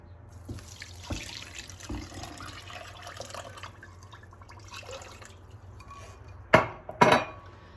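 Warm water is poured into a pot to make syrup for baklava, a soft steady flow with a low background hum, ending in two sharp, loud metallic clanks of the pot close by.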